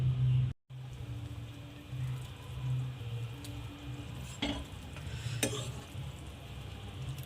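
Shev bhaji sizzles in a pan as sambar masala is stirred in, a soft, steady frying crackle with a few scraping stirs and no talking.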